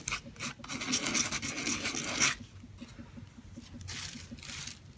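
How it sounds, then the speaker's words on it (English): Coarse grit sandpaper rubs against an old lamp being given a chalk-paint makeover, a steady rasping scrape for about two seconds, then lighter, quieter strokes continuing close by. "This is a coarse grit sandpaper."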